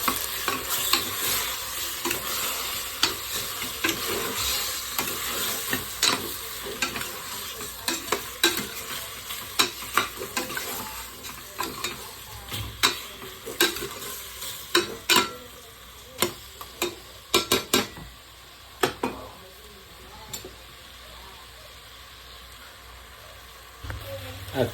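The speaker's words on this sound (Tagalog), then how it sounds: "At maglalagay tayo ng paminta. Ayan. Tapos, hahalu-haluin natin." A spoon stirs pork sinigang ingredients seasoned with pepper in a pot, producing a steady run of scraping clinks and taps over a faint sizzle, growing sparser and more distinct toward the end.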